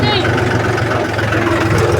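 A Mahindra tractor engine runs steadily at close range, a continuous low rumble with a harmonic drone that holds for the full two seconds without letting up.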